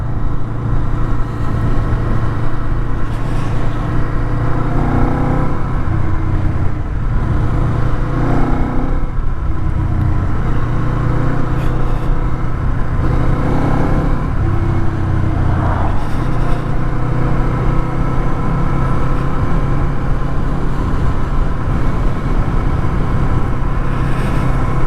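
Kawasaki Eliminator 500 parallel-twin motorcycle engine running steadily for about 25 seconds, a loud continuous drone from close by with brief swells in revs, and no voices.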